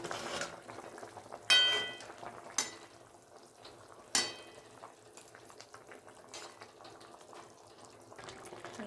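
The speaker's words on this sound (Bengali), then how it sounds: "ঝোলটা ফুটে উঠেছে, এবার মাছগুলো দিয়ে দেবো।" Rohu fish curry simmers in a pot with a soft, steady bubbling close by, broken by a few sharp knocks and splashes as fish pieces go in.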